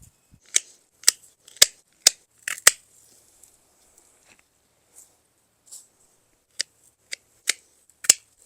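Cocoa Marigold Gold flower stems cut in a garden, heard as sharp, close snips, a quick run of five, then a pause, then four more, against near silence.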